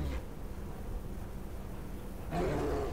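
A polar bear in the video game Never Alone lets out a deep, rough roar, faint against low background noise and swelling louder near the end.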